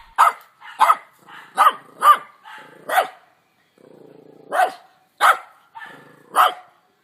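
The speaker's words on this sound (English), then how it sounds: "Dog." A dog barks in separate sharp bursts, about nine in all, at an uneven pace with brief pauses, close and clear.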